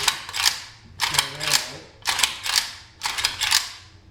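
An AMD-65 rifle action is worked four times in a row, each cycle a sharp metallic rack-and-clack of the mechanism, close up and evenly spaced, with no one speaking.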